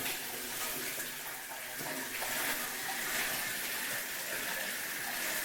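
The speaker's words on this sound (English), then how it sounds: "I'm going to turn on the hot water so we can check the water pressure." Hot water runs steadily from a bathtub faucet, a continuous broadband hiss and splash that stays close and even throughout, with no voices over it.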